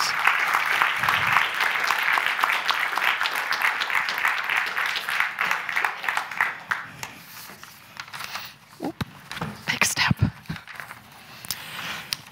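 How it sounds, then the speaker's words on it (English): An audience at a creativity conference session applauds loudly in a dense burst that gradually thins out into scattered claps and shuffling. "I want an extra loud round of applause for them"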